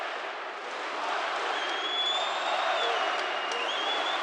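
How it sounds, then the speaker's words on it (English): Partisan crowd at an MMA fight roaring and cheering in a sustained wash of noise that swells after the first second, with whistles rising above, a commentator's voice faintly underneath. "The partisan crowd wildly cheering for their representative"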